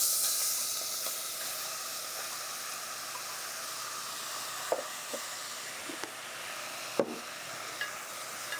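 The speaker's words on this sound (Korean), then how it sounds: "2스푼 정도 두르고 김치를 넣어서 볶아주도록 하겠습니다" Kimchi stir-fries in perilla oil in a pan, giving a steady soft sizzle and hiss with a few light clicks of stirring, no voices.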